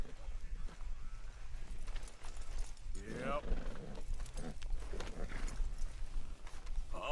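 Horse hooves clip-clopping in Red Dead Redemption 2, a steady rhythmic trot of hoofbeats close by, running under a man's spoken remarks and a brief game voice.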